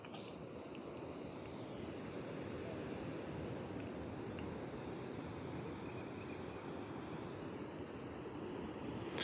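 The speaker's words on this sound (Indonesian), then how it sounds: "tadi ombaknya sangat besar ini udah agak landai ombaknya" Ocean surf rolling in at Junwok beach in Gunung Kidul, Yogyakarta, a steady broad roar of waves with the swell easing, continuous and moderately distant with no voices.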